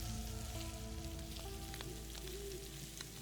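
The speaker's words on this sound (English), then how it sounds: "Look at that sizzling sound." Meat sizzles steadily in a frying pan while cooking in the video game Homestead, a continuous crackling hiss that stays even and close throughout with no talking.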